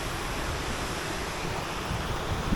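River water in Lathkill Dale in the Peak District, in winter, rushes and splashes past rocks in a steady broadband roar, close and continuous throughout without any voices.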